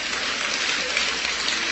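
Congregation applause at an evangelical church service, a steady dense wash of clapping that holds evenly throughout, with no voices on top.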